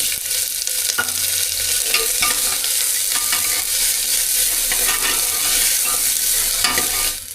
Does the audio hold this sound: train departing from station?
no